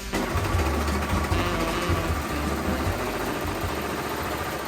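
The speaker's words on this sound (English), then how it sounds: "Now I'll sew all of the sides together" A sewing machine stitches the side seams of a silver bodice for a concert outfit, running in a continuous close, buzzing whir with a rapid needle chatter and no pauses.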